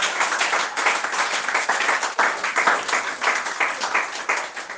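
An audience claps to acclaim the Lord at a wedding-themed church gathering: sustained, dense, lively applause from many hands, loud and continuous with uneven swells and no voices standing out.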